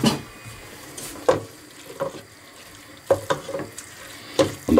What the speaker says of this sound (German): Das Ganze dann einmal gut umrühren.